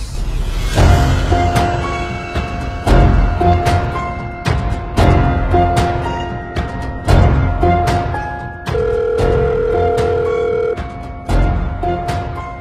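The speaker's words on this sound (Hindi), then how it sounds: "बॉस का फोन है" An old-style telephone bell rings repeatedly in evenly spaced bursts, loud and close, with no talking.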